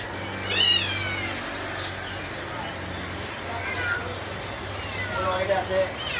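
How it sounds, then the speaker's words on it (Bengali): A cat meows several times at an animal market in Katabon, Bangladesh, with other animal calls and a steady background hum nearby. "এর মধ্যে আরও কিউট ক্যাট আছে।"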